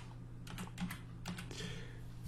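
Typing on a computer keyboard while entering text in Photoshop 2021, with a run of quick, close key clicks over a steady low hum and no talking.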